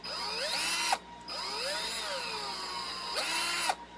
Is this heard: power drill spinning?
yes